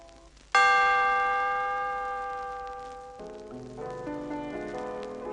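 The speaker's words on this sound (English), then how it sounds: "when you hear the chime, turn the page" A bright chime rings out once on a 1980 children's read-along record of a Raggedy Ann and Andy story, its clear bell tones sustaining and slowly fading before a softer, lower second set of tones follows.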